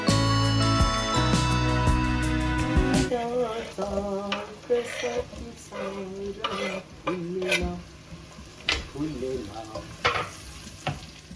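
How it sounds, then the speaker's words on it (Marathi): Onion frying in butter with mace and cardamom sizzles under repeated stirring and spoon scrapes against the pan, following a few seconds of background music at the start. "त्यामध्ये सुरुवातीला जावेत्री आणि विलायची ॲड केली ती छान भाजून घेतली आणि मग त्यामध्ये कांदा ॲड केला"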